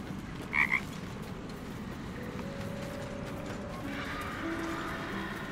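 A frog croaks in a swamp in Baldur's Gate 3. One short double croak stands out over a steady background of ambient noise, followed later by faint tonal chirps and whirs.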